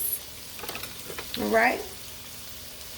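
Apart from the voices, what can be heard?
spinach with cherry tomatoes sautéing in a pan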